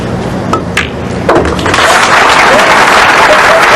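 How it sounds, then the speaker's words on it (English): A crowd applauds at the World 9-ball Pool Championship 2007. A few scattered claps swell into loud, sustained, dense applause that fills the hall. "Crowd beginning to get excited."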